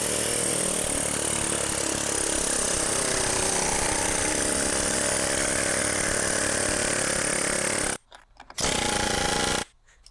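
A small air compressor's pneumatic tool hammers loudly and continuously into a Tesla Model S battery pack, losing power as the air runs low, then cuts out briefly twice before a short final burst.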